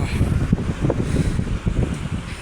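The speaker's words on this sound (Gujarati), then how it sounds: "વાયરો ઉપર ફૂલ ચાલુ જ છે" Wind buffets the microphone of a rickshaw in motion, a loud, gusty rumble that pulses irregularly throughout.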